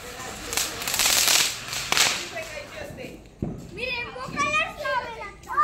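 Diwali firecrackers in a village celebration burst with sharp cracks in quick succession, loud and close, followed by children chattering and calling out as they play.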